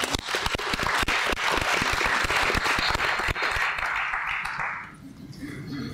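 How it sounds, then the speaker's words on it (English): Audience at a leadership conference panel breaks into a full, dense round of applause that holds steady, then thins out and fades near the end. "I definitely think that deserves a round of applause."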